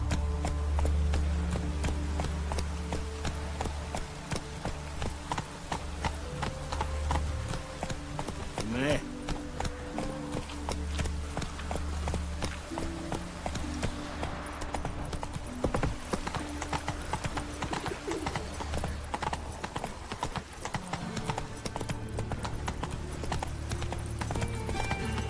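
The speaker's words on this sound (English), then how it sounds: "Run, Roach" Horse hooves clip-clop at a steady galloping rhythm in The Witcher 3, carrying on beneath in-game music and ambience for the whole stretch.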